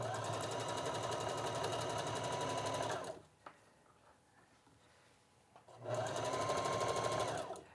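A sewing machine stitches elastic onto a boatneck top, whirring in a rapid, even run for about three seconds, pausing near-silent with a small click, then starting up again close by.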